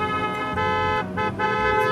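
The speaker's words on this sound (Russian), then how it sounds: "Тут, видишь, гудят уже" Several car horns honk in a parking lot in the Parking Tycoon Business Simulator video game, overlapping loud toots that rise and fall over about two seconds, with no talking.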